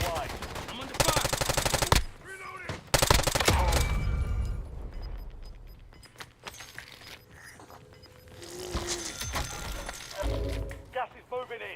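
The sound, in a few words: gunfire in a video game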